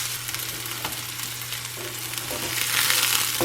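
Sausage sizzles and fries steadily in a skillet for a one-pan southwest shepherd's pie, a constant crackling hiss that swells louder near the end, with a low steady hum beneath it.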